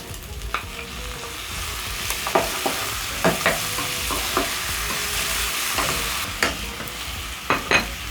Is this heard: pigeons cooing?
no